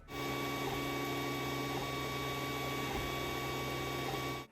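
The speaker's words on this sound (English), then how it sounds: "print head movements are quieter with the S1 Pro" A steady mechanical whir with constant tonal hum from a Creality Ender 3 S1 Pro 3D printer's print head moving continuously, fairly quiet and unbroken throughout.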